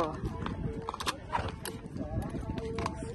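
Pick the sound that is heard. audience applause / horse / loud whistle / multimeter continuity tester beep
horse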